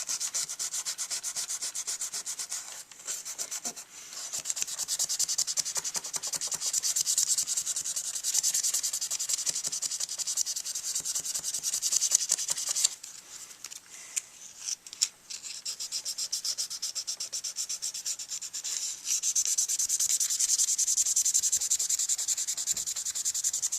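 Finer grit sandpaper rubs back and forth over a bass clarinet mouthpiece in quick, steady scratchy strokes, close and fairly quiet, with brief pauses and no speech.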